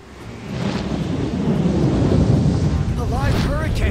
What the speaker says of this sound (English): A live hurricane! That thing's like half bird, half storm, half airship!